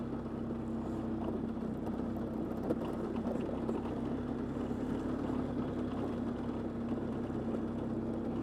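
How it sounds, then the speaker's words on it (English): A Polaris Sportsman ATV engine idles with a constant low hum and slight rumble, running evenly throughout with no voices. "The engine does sound really good."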